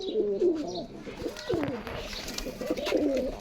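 Two female desi pigeons coo close by in repeated low, rolling phrases, with soft rustling between calls.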